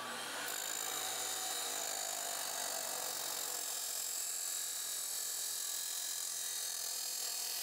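A steel pipe being cut in half with a power tool, a continuous loud grinding hiss that holds steady and close throughout.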